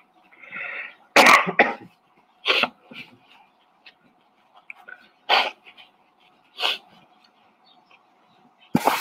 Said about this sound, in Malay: Ustaz terbatuk sikit